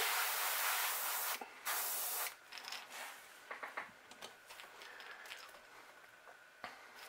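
An airbrush sprays black paint onto a crankbait fishing lure, a loud steady close hiss in long bursts that breaks off into short intermittent puffs and clicks.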